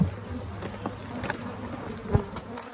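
A swarm of honeybees buzzes inside a bucket in a dense, continuous close hum, with a few louder passes as individual bees fly near and some brief handling knocks.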